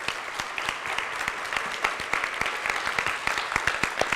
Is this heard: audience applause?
yes